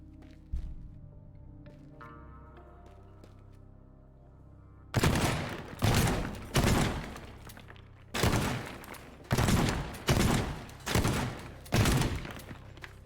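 Shotgun blasts in the physics game Teardown, a series of about eight loud, sharp booming shots at irregular intervals, following a quieter stretch of faint clicks and background hum.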